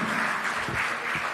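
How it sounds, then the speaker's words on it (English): Sustained audience applause from a crowd at an official launch event, a dense steady wash of clapping throughout with no talk. "I don't have to ask if she deserves another round of applause."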